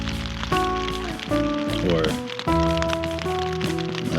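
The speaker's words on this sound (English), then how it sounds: "I'm just gonna sleep tonight listening to the rain" Steady heavy rain patters on a tent during a solo bikepacking trip through the Oregon Outback, close and continuous, while someone speaks over it and a tonal hum drifts underneath.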